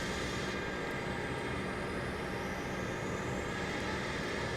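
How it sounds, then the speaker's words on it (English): Airbus A320 auxiliary power unit spooling up inside a flight simulator, a steady broadband roar with a faint rising whine, continuous and fairly loud from start to finish with no talk. "Turn on the APU master and turn on APU start."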